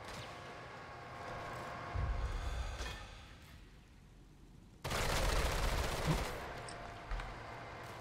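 Gunfire in Sniper Elite 5 comes as bursts of rapid shots, first moderate and then a loud sustained volley of machine-gun fire after a quiet lull.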